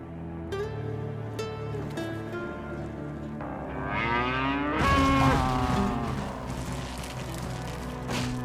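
Cattle in an anime episode low repeatedly, several drawn-out moos overlapping close by, with a louder, rising bellow swelling near the end over a steady background rumble.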